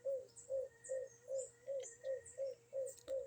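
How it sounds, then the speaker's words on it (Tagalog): A pigeon coos steadily in its loft, about ten even, rounded coos in a regular rhythm, close and clear over a faint background hum. "nandyan lang siya sa pugad humuhuni"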